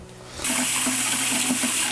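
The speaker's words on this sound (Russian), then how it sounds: "Это будет теплая вода. Это будет холодная вода. Напор везде одинаковый." Newly installed tap in a self-built bathhouse, bursting on after a quiet moment into a strong, steady hiss of running water that continues loud and unbroken.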